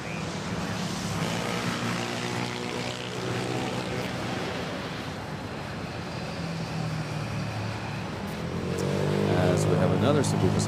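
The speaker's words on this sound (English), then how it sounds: "Another Cebu Pacific, takeoff on runway 31." Cebu Pacific airliner taking off from runway 31 at Manila Airport, a steady distant jet roar with a low rumble that swells louder near the end.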